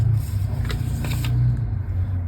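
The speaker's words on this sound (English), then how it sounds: "Let me just wait for the guy with the loud truck to drive past." A loud truck passes nearby, its heavy low engine rumble steady and strong throughout, rising slightly as it goes by with some faint clatter on top.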